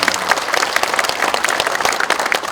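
An opening-ceremony audience claps vigorously and continuously, a close, dense burst of many hands with a faint crowd murmur mixed in.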